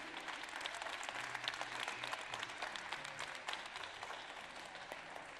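Audience applause at a Musulmans de France presentation, a sustained patter of many hands clapping with crisp individual claps standing out, fairly distant and soft in level.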